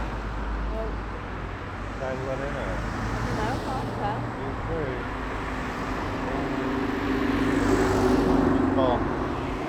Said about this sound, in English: It's a taxi coming now